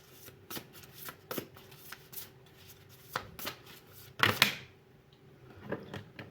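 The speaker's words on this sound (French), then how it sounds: "Hop là, les cartes sautent." Oracle cards shuffled by hand in a quiet room during a weekly spiritual card reading: a series of soft, close riffling slaps, ending in a louder, bright burst of cards springing out together.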